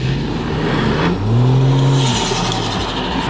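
A Ford XR6 ute's engine revs up loudly and drops back, its rising whine standing out over steady road noise.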